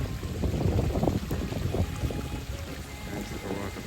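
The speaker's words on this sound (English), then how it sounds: "Oh, a nice waterfall. Nice waterfall there." Water from a small waterfall in a tropical Jamaican setting rushes steadily in a broad, continuous wash, loud and close throughout, with no voices over it.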